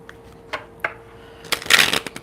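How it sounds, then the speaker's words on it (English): Tarot cards being shuffled by hand: a few soft papery taps, then a brief burst of rapid riffling flutter, close and quiet with no talking. "One more shuffle."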